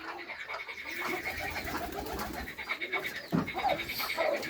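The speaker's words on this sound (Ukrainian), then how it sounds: "всі решту голуби в вольєрі на вулиці" Soft pigeon coos sound repeatedly from an outdoor aviary in a Ukrainian village, with a low rumbling murmur throughout and a few sharper calls toward the end.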